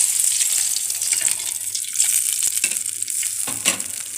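Tomatoes hit a hot pan in a home kitchen and set off a steady sizzle, with a brief louder burst of frying and stirring partway through. The crackle carries on throughout with no talk over it.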